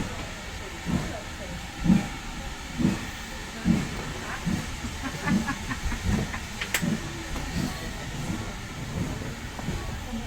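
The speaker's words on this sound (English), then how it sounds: "There we go, that's steam." Steam hisses from a locomotive on the Dartmouth Steam Railway as a steady broadband rush, with rhythmic low chuffs and rail noise underneath and voices faintly in the background.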